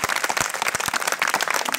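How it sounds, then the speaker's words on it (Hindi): An audience at a village community speech event applauds with dense, continuous clapping that stays loud and steady throughout. "उनके वास्ते जोरदार एक बार ताली।"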